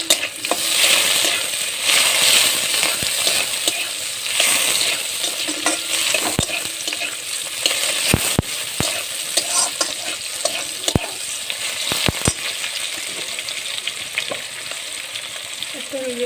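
A pan of ghugni fries with a whole tomato added while it is stirred, giving a loud continuous sizzle with scraping stirs and several sharp clicks of the spoon against the pan, heard close and steady throughout.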